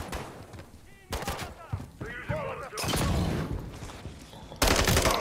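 Bursts of gunfire in the video game Modern Warfare 3 crack out in several loud volleys amid shouted voices, explosions and battle noise.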